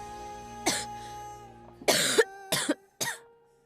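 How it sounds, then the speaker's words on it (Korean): A girl coughs in a series of short, harsh bursts, one early and then three close together, over a quiet steady background hum. "기침 때문에 정신을 못 차리겠네 그냥."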